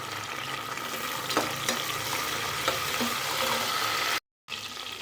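Chopped onions and tomato sauté in hot oil in a pan for vegetable pulao. A steady, soft sizzle and crackle runs throughout, with a few light stirring clinks, close by, and a brief gap near the end.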